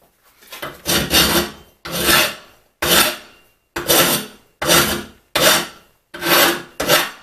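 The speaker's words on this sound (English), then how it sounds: "so I can remove it with a file or something" Eight long rasping strokes of a file on the serrated edge of a metal clamp, each a second or so, steady rhythm with short pauses between, loud and close.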